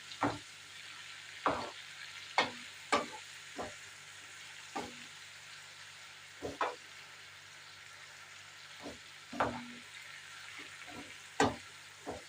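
Albanian-style fried liver with potatoes is stirred in a pan: a faint, steady sizzle under irregular, sharp scrapes and clacks of the spoon against the pan, arriving every second or so.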